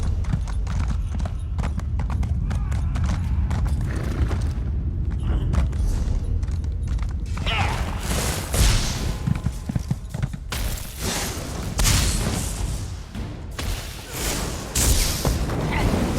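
Horse hooves while riding a mount in Elder Scrolls Online, a continuous rhythmic clip-clop of galloping over ground with low rumbling thuds, near and loud throughout, with occasional brief heavier bursts later on.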